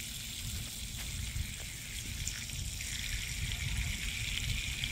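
Water trickling and splashing steadily into an ornate box turtle enclosure during watering, a soft continuous stream with gentle gurgles and no talking.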